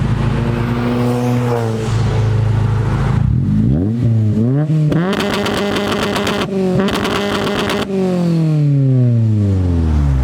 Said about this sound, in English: I actually just went in and added more fuel for the 2-step, so hopefully it shoots even bigger flames